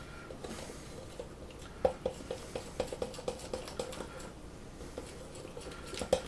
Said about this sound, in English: Stir slowly